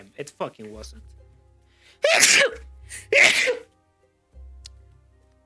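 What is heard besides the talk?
sneeze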